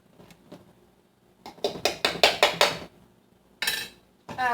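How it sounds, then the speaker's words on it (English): A pastry cutter works shortening into flour in a bowl, giving a run of sharp metallic scrapes and clinks against the bowl in quick rhythmic strokes, then a pause and two more louder scrapes, close and clear, with no talking. "I'll use the pastry cutter for a little bit, and then I'll use my fork"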